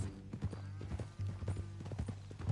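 Horse hooves clip-clop in Red Dead Redemption 2, a close, irregular series of muffled thuds over a low steady hum, with no talk.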